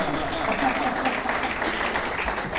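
Audience at an Indian Merchants' Chamber event applauds the winner, with a steady wash of clapping held at a constant level throughout, with murmured voices mixed beneath it.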